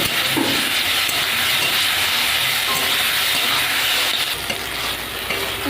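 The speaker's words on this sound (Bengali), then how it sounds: "মাছ ভেজে নেব।" Fish frying in oil in a kadai, a loud, dense, continuous hiss and sizzle close up with occasional faint stirring, no talk.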